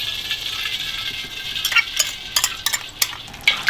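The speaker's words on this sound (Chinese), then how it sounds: "然后把刚刚调那个酱油汁倒下锅哈" A soy sauce mixture is poured down the side of a hot wok and sizzles, with a steady frying hiss broken by sharper crackling bursts that grow busier toward the end.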